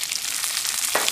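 Curry leaves, onion, green chili and dried red chili sauté in hot oil with a bright, close sizzle. One quick scrape of stirring comes near the end.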